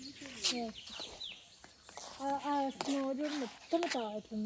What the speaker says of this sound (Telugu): ఈ బర్డ్ సౌండ్స్